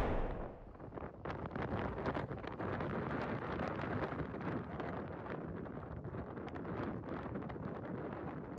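Strong wind buffets the microphone on a golf course, a loud continuous rumbling roar with gusty fluctuations throughout and no voices.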